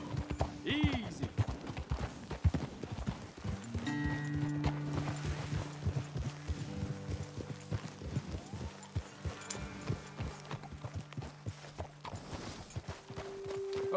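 Horse hooves clip-clopping at a steady walk in the Red Dead Redemption 2 video game, moderately near, beneath a low ambient music bed, with occasional faint snorts and someone speaking over parts of it.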